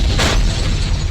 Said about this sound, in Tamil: இது டைம் செட் பண்ணி வெடிக்கிற மாதிரி